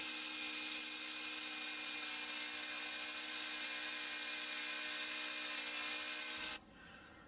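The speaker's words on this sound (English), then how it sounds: "I like to use a little round burr to start with, and then I'll just finish milling out with like a grinding bit on the end" A rotary tool with a small round burr mills out a G10 Griptilian knife handle, a steady high-pitched whine with grinding rasp held close and constant, then cutting off abruptly near the end.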